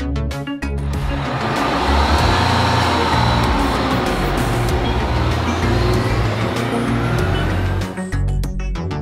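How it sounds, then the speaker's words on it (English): An airport crash tender fire vehicle roars steadily for several seconds, a loud, dense engine rumble with hiss on top and no talking. "Light air unit. Airport crash tender."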